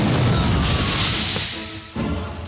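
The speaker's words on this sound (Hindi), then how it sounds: "पैर हटा, बम फटा।" A bomb explosion at a farmhouse in the 2025 Hindi-dubbed action film Daku Maharaj: a loud, crashing, whooshing roar that fades, then a sudden fresh boom near the end.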